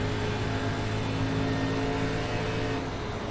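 An ARCA stock car racing at Pocono in the iRacing simulator gives a loud, continuous engine roar at steady throttle, dense and close with no pauses, alone without talk.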